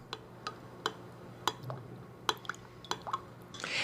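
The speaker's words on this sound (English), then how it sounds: "Now just stir this together." Spoon stirring orange juice, water and honey together in a bowl for almond baklava syrup, a series of light clinking taps against the bowl at an irregular pace, fairly quiet.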